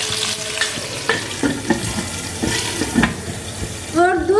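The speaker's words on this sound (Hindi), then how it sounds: "अब इसे हम मीडियम फ्लेम पे कवर करके" Parwal masala fries in a pan over a medium flame, with a soft continuous sizzle broken by clicks and light utensil knocks, and a short voice near the end.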